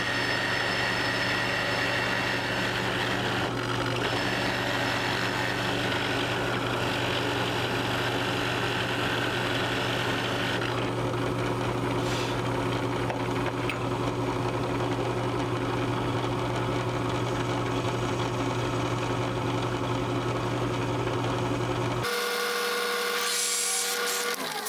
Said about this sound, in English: I probably should have drilled out the eye socket, so I'm going to do that now.